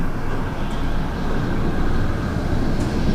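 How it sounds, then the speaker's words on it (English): A loud, continuous rumble of a heavy truck with a large trailer rolling past nearby, with a steady low-pitched roar throughout. "Gotta love these big trucks that come by each and every day with the big trailers."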